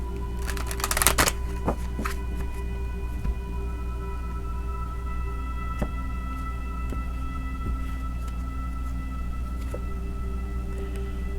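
A deck of Earth Magic Oracle cards is shuffled, a brief riffle of papery flutter near the start, then quiet handling against a steady low hum.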